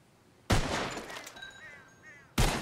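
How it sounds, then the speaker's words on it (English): Two loud, close revolver-style gunshots in Red Dead Redemption 2 during a bottle-shooting contest, each a sharp crack, the first trailing into a ringing, wavering tail before the second shot cuts in. "Whoever shoots more of these bottles wins. Just draw your gun and aim when you're ready."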